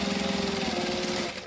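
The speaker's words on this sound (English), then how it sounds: "and then sew all the way down the edge" A sewing machine runs steadily, stitching down a fabric edge on a handmade zippered bottle carrier, a loud close whirring hum that slows slightly near the end.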